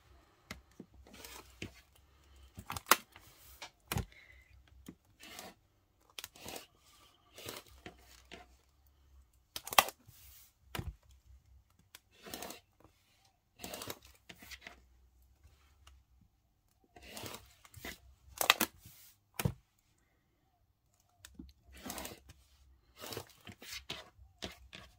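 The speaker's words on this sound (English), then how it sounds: "we're going to grab our ruler and we're going to trim off our little bit of excess fabric" Scissors or a cutter trims excess quilted fabric along a ruler, producing faint, sparse snips, clicks and crinkles spread irregularly over quiet pauses.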